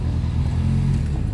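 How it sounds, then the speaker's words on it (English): Nissan 240SX engine revving in a steady, loud low rumble, held high for a moment close by, with no talk over it. "But it's revving great."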